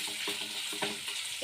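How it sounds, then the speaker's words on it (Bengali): Turmeric and chili powder with spices being stirred in a frying pan: a soft, continuous sizzle broken by light rhythmic scrapes of the spoon, fairly quiet with no talking. "তো এগুলো সব একটু নাড়াচাড়া করে নিতে হবে।"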